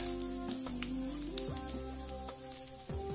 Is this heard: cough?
no